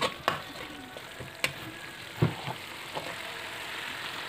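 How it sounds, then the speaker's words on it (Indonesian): Lemongrass and spice paste fry in a pan while being stirred for a spicy Indonesian chicken stir-fry, with a soft steady sizzle broken by several sharp spatula clacks and scrapes. "Kemudian masukkan serehnya. Panaskan sambil terus diaduk hingga bumbunya masak dan tanak."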